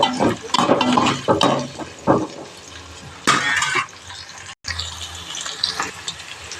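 Green chili and big onion sauté in a pan, with bursts of spatula scraping and stirring over a frying sizzle, uneven and close, and no voices.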